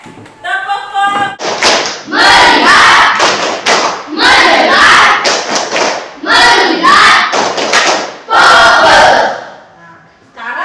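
A class of schoolchildren performs the 'tepuk fokus' clapping chant, with bursts of shouted chanting and rhythmic group claps in several loud sections after a short spoken cue.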